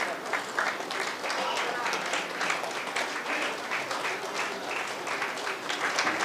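An audience claps continuously at an outdoor Good Friday gathering, a dense steady patter of many hands mixed with voices of children and adults.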